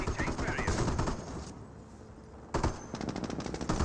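Machine gun fire in the Company of Heroes strategy game, rapid rattling bursts with a short lull in the middle, then dense firing resumes.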